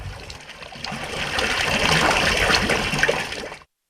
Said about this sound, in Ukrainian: Тепер же каналізаційні стоки неочищені, потрапляють звідси до річки Ільмень